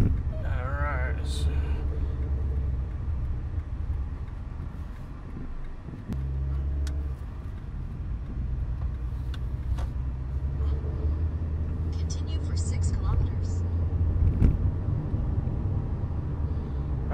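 A rented 4x4 car drives along a road, its engine and tyre rumble steady and close throughout, with occasional bumps and rattles and a few brief higher sounds over the continuous drone.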